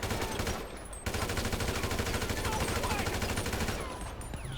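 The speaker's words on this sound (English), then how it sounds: "So now I'm just going to record a firing scene with this actor, and I'm going to try to shoot the actor afterwards." Gunfire in the GTA video game, rapid automatic bursts rattling almost continuously for several seconds, loud and close, with a brief pause near the start.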